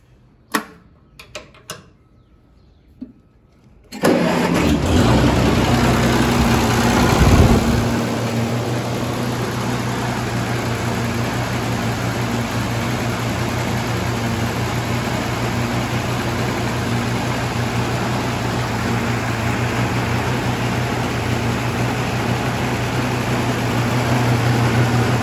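A 1948 Oliver 70 tractor engine, its carburetor just reconnected and only a little fuel in the tank, cranks with a few short bursts, catches and then runs at a steady loud, close idle for the rest of the clip.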